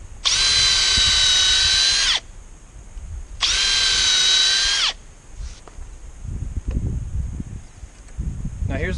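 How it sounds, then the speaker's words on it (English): A power drill bores pilot holes in wooden boards for a post, two loud high-pitched whirring bursts of about two seconds each, followed by rustling handling noises, outdoors. "we're going to pilot a couple of holes"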